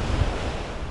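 Waves surging onto a pebble beach at Inal Bay, a steady, loud roar of surf under gusting wind noise hitting the microphone throughout, with no voices.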